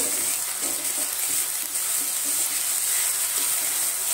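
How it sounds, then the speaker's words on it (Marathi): Onion with salt fries in a pan, giving a continuous bright sizzle with soft, intermittent stirring scrapes underneath, close and even in level with no voices. "2 मिनिटं आपण कांदा चांगला परतून घेऊ।"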